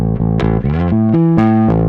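Electric guitar run through parallel processing, with distortion blended alongside other effect paths, playing a loud sustained melodic phrase of bent and shifting notes, alone without talk.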